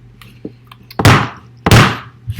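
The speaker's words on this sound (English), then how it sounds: "Gently tap on the end of the stock." An M1 Garand rifle's stock end is tapped on a flat table, producing two loud, close wooden thunks about two-thirds of a second apart, preceded by faint small handling clicks.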